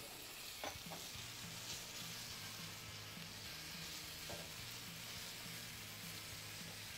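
Chicken pieces for chicken piccata fry in a pan, giving a steady close sizzle and crackle with a faint low hum underneath, no voices.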